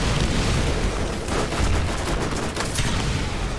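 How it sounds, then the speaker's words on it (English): An explosion and rapid gunfire in the video game Borderlands, a dense, loud, continuous barrage of shots and blasts with no clear pauses. "That's a grenade."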